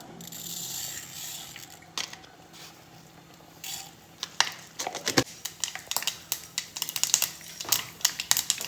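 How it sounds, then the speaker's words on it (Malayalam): Mustard seeds splutter in hot coconut oil, starting with a soft hiss and building into dense, sharp crackling pops close by. "വെളിച്ചെണ്ണ ഒഴിച്ച് കടുക് ചേർക്കുക. അതിലോട്ട് കടുക് ഇട്ട് കൊടുക്കാം."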